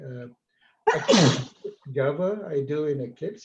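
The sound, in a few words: sneeze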